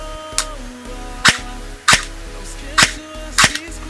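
Five sharp snapping shots from an electric airsoft handgun built to be quiet, at irregular intervals over a steady low motor hum, close and loud.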